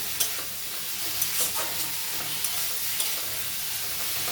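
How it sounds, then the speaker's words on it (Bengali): Tomato and spice paste fry together in a pan for a Bengali snail curry, giving a steady close sizzle with a few soft scrapes and knocks as it is stirred. No one speaks. "এই একসঙ্গে মশলার সঙ্গে আমি ভালো করে কষে নিচ্ছি"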